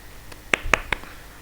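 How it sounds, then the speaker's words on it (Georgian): Three quick, sharp claps close by, evenly spaced and ringing briefly, with no talk. "ტაში უნდა დაუკრა"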